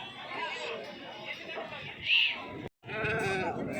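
Sheep and lambs bleat at a weekly Saturday livestock market in Angallu. One clear bleat rises over steady crowd chatter and bargaining voices.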